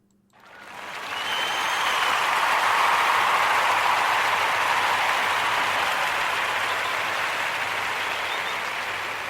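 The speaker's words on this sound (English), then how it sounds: "we want to give all of the Nia babies a round of applause" A round of applause from an audience swells quickly and holds steady as a dense, even wash of clapping with no talk over it.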